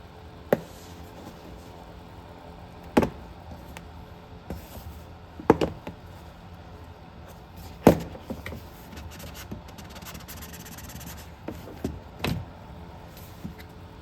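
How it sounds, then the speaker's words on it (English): A plastic trim tool prying plastic armrest clips off the door panel of a 2014 Lexus GX 460, heard as sharp, isolated pops and clicks a few seconds apart over a quiet background with faint handling noises. "So I'm just going to take a bigger trim tool, try to get underneath it here and pop it up."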